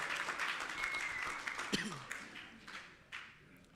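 An audience at a Commonwealth Hansard Editors Association conference in Africa applauds steadily in a dense, moderately loud wash of clapping. A voice speaks over it, and the clapping thins out toward the end.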